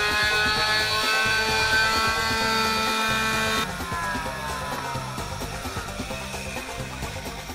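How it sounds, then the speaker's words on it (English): Steady buzzing whir of a palm sander running close by on a wooden duck decoy, its pitch shifting partway through as it works the wood. "Some sanding with a palm sander."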